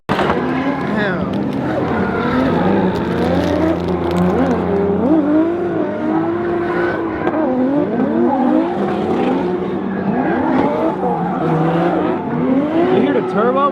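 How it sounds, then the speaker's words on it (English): 2JZ-swapped Nissan 370Z drifting with a loud, continuous engine and turbo whine that rises and falls, tires squealing, and voices talking over it throughout. "You hear the turbo, bro?"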